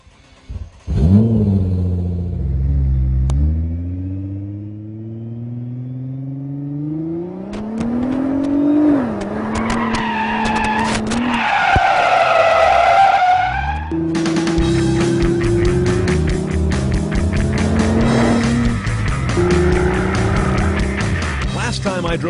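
A 2012 Nissan GT-R is driven hard around Infineon Raceway in Sonoma Valley, the engine revving up through the gears with rising pitch, then tires squealing through a corner before it accelerates again, loud and close throughout.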